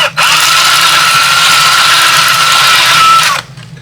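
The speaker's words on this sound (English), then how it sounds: "let's go ahead and drill this out again" A power drill bores through a part for a K-2SO security droid LED build, sounding as one loud, steady whine of about three seconds that starts and stops abruptly.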